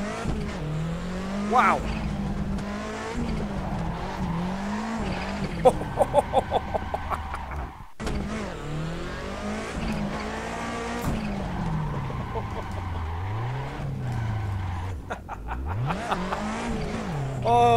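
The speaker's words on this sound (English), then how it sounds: "Right, we need a handbrake turn here." A car in the Assetto Corsa racing game on the Tokyo Shuto Expressway swings through a handbrake turn, the engine revving and the tires squealing in rising and falling sweeps, loud and close, with a brief exclamation from a voice.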